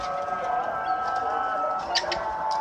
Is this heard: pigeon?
yes